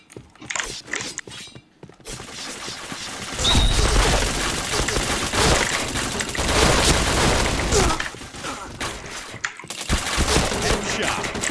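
Rapid bursts of gunfire in a shooter video game, dense volleys of shots and mechanical clicks, loud and close, broken by short quiet gaps, with occasional talk in the background.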